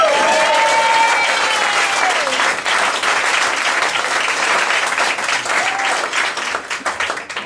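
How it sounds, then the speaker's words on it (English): An audience applauds a band at a pub gig, loud, dense clapping that holds steady throughout, with a few whistles early on and slight easing toward the end. "just a round of applause for them for coming in"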